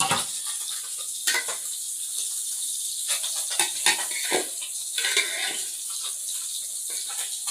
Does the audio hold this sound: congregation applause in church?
no